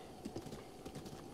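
Horse hooves clip-clop in Zelda: Breath of the Wild, a few soft, close hoof thuds in quick uneven rhythm over a short stretch of game ambience.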